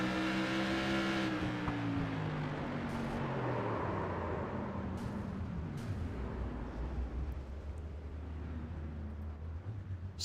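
An onboard engine drones loudly inside a modified race car at Thompson, its pitch sliding down as the car slows, spins and ends up stranded. A few sharp knocks and clatters break through the steady mechanical roar.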